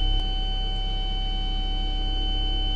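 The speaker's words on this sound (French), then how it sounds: "Une sonnerie retentit lorsque la fonction est activée." An electronic chime from a Cat 320 excavator cab as the virtual wall barrier activates: a steady, sustained pure tone over a low constant hum, close and uninterrupted.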